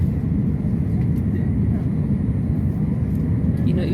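An airplane touching down on the runway at a landing in Ethiopia, its wheels rolling: a loud, steady, deep cabin rumble with broadband roar that continues unbroken throughout.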